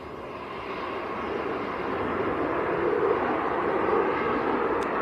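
A Juneyao Airlines airliner in a colourful petals livery departs Manchester Airport, its engine roar a steady mid-distance rumble that slowly swells over the few seconds.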